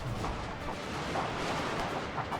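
Distant volleys of musket and rifle fire pop unevenly across a battlefield in the strategy game Shogun 2: Fall of the Samurai, faint and muffled under a dense, rumbling battle ambience.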